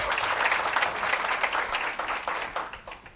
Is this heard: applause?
yes